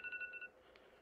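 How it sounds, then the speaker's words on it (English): A mobile phone goes off with a short run of bright, electronic beeping tones, close and clear, stopping within half a second, followed by a faint single blip over quiet room tone. "Excuse that noise. It was just my phone going off."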